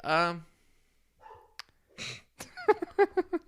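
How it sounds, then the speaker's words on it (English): A dog barks and yips in a quick burst of several sharp, fairly close barks after a few scattered sounds and a sigh-like breath. "If you heard barking, my dog just saw another dog walk past the house."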